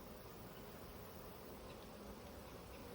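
Honey bees, many of them nurse bees, hum on a hive frame lifted from a colony being reduced for a mite wash. The buzz is a faint, steady, dense drone that holds for the whole stretch with no voices.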